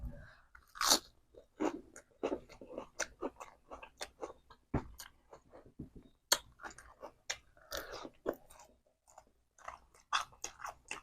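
Close-up crunchy chewing of crispy deep-fried pork, with irregular bites and crackling crunches coming in quick bursts and short pauses, and no talking.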